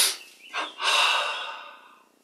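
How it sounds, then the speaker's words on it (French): A single slow inhalation through the nose during a guided meditation exercise, preceded by a short breath sound, close and soft with no talking. "Inspire."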